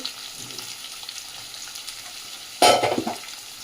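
Onions frying in a pan for a chicken dish give a faint, steady sizzle, then a sudden loud burst of crackling and stirring near the end.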